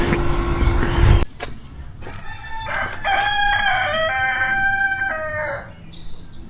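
Roosters at a farm in Germany crow outdoors, one long clear crow rising after a burst of wind or passing traffic noise, with fainter calls in the background.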